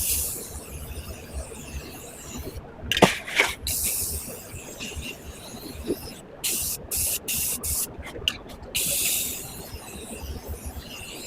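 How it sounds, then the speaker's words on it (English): An aerosol can sprays paint onto a thrifted item in several loud, close hissing bursts of varying length, separated by short pauses and faint handling noise. "We're going to spray paint it."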